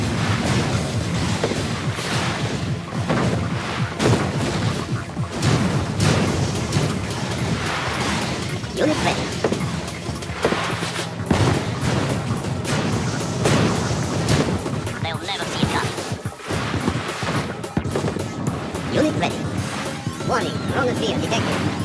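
Submarine missile launches and explosions in the strategy game Yuri's Revenge form a dense, continuous run of booms, crashes and thuds, with game unit voice lines talking over them.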